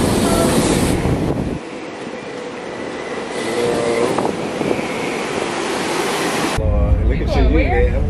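Train ride with a continuous loud rumble and rattle of a moving railcar, shifting in tone partway through, with someone talking over it near the end.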